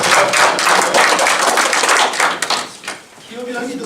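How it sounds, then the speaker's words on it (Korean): An audience at a culture policy forum claps in a dense burst of hand claps, loud and close, thinning out after a few seconds as a voice resumes. "이럴 때는 박수도 치고 그래요."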